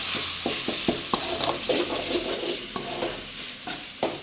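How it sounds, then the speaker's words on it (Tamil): A spoon works chilli powder into a gongura mixture in a pan, giving repeated scraping clinks over a continuous sizzle of frying, near and fairly loud, with no voice. "மிளகாய் தூள் சேர்த்துட்டு நல்லா வந்து மிக்ஸ் பண்ணிக்கணும்"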